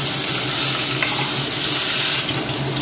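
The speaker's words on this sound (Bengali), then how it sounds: "আলুটাকে একটু ভালো করে লাল লাল করে ভাজবো" Chandramukhi potatoes fry in oil, giving a dense, loud and continuous hiss of sizzling that holds steady throughout, close by and with no speech.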